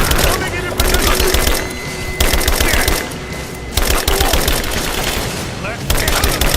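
Rise of the Tomb Raider gunfire rattles in dense, rapid automatic bursts that keep coming for several seconds, loud and close, with short pauses between volleys and shouted voices mixed in.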